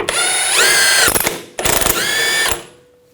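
A ratchet with a 24mm socket loosens the steering rack nut on a 2000-2006 BMW X5, making two close, loud bursts of whirring, clicking mechanical noise separated by a short pause, with no talking.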